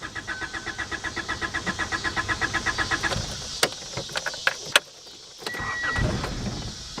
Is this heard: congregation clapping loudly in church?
no